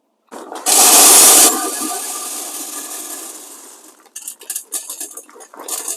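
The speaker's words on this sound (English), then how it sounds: "We're going to fill this full of pellets." Wood pellets pour into the hopper of a pellet smoker with a loud rushing rattle that gradually thins out, followed by scattered clinks and clatters of pellets settling.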